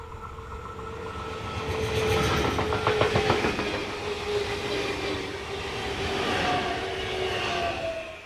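A long train headed by two locomotives, 185306 and 187196, passes on the line between Würzburg and Gemünden in Germany on a hot day, a steady rolling roar with rhythmic clickety-clack that swells and fades, with no speech.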